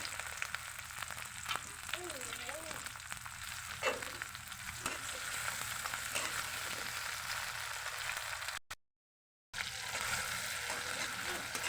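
Onion, shrimp and green chili fry in soybean oil with a constant sputtering sizzle, a few stirring scrapes and a faint whistling tone, cut briefly by a moment of silence before the frying resumes.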